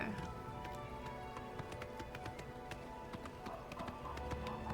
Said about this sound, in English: Let's hop back up on our horse and trot over this way.